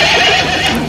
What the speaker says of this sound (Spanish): un caballo blanco